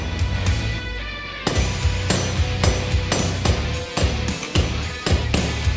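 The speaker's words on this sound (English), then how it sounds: "the top and bottom fullers, we're going to start forging trough lines, which isolate the cheeks and the eye from the faces" Steel is forged between top and bottom fullers while making a ball-peen hammer, with steady rhythmic hammer blows ringing close and loud over a continuous low machine rumble, suggesting a power hammer.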